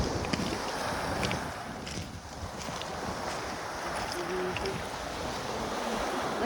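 A small boat rides over the sea, with a continuous rush of waves and wind around the hull at close range and faint voices now and then.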